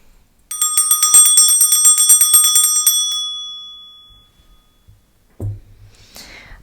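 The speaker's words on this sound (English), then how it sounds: "first I'm going to clear the energy with my bell." A small hand bell rung to clear energy before a tarot reading. It gives a rapid, bright ringing roll for about two and a half seconds that rings out and fades. A soft thump and a brief rustle follow.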